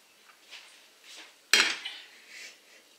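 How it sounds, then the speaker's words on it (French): A single sharp metallic clank of a lid set onto a pot of tomato stew, close and loud, with a brief ringing decay amid quiet kitchen background. "je mets le couvercle"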